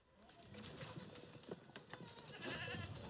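Goats on a farm beside mining spoil heaps bleat faintly among outdoor background noise, a few distant calls spread across a few seconds.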